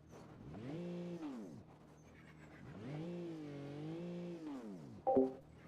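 A car stuck after reversing onto a curb in a racing game revs in long rising and falling engine sweeps, two sustained pulls with a brief dip between, ending in a short sharp squeal.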